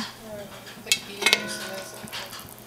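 Pans and utensils clink and scrape while a stir fry dinner cooks in a home kitchen, two sharp metallic clanks standing out over a faint background sizzle and soft household noise.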